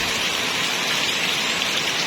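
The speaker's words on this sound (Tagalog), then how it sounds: "And ang lakas pa naman ng ulan." Heavy rain pours steadily and densely, a continuous loud hiss of drops on surfaces with no breaks, close and enveloping, no voices over it.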